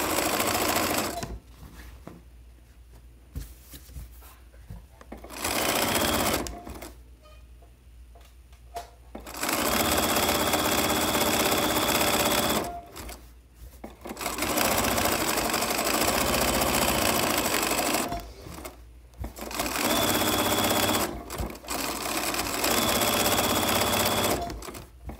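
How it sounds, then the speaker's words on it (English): A sewing machine zigzag-stitches down a pillowcase seam in several long, steady runs of rapid mechanical chatter, separated by brief quiet pauses, close and loud. "So I'm going to zigzag all the way to the bottom."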